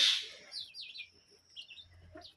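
Small birds chirping in quick high tweets and short trills, fairly close, with brief pauses between calls and no talking.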